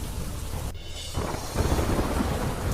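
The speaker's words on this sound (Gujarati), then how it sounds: "ઉત્તરાખંડના બાગેશ્વરમાં અવિરત વરસાદ" Heavy, unrelenting rain in Bageshwar, Uttarakhand, a loud dense roar of downpour with a deep rumble of thunder, briefly dipping before swelling again.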